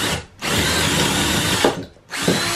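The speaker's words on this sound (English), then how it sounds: "I'm also going to go ahead and drill the holes for this board to be in here" Cordless power drill boring holes in a wooden board for a trailer dump box latch: two sustained whining runs of about a second and a half, close and loud, separated by brief pauses.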